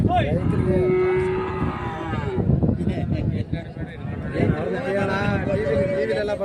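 Cattle at the Gandasi weekly cattle market moo in long, loud lowing calls, one drawn out near the start and more following, amid crowd noise and people talking close by.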